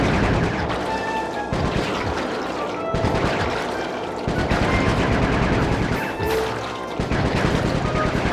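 Rapid gunfire in Sly 3: Honor Among Thieves on PS2, loud repeated bursts with crashing impacts and short breaks between volleys, alongside game music tones.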